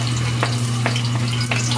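Garlic sizzles steadily in hot oil in a pan, a constant close frying hiss with a few soft stirring scrapes and a low steady hum beneath.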